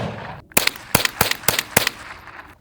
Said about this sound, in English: I think let's just shoot this with all the guns and then see how deep they went.